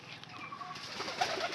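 Pigeons, including a round-bodied gola breed, coo softly from a nearby loft, with low murmuring calls over a steady faint background.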